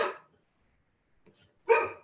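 Two barks from a dog sound close by, the first one right at the start, then a short pause broken by a faint rustle, then a louder second bark, with no voices.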